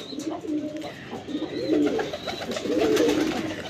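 Teddy cross flying pigeons with red eyes cooing close by, soft repeated throaty coos layered over one another against a faint background, with no talk.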